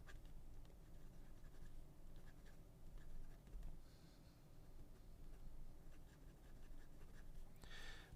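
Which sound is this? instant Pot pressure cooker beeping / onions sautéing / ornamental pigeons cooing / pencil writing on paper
pencil writing on paper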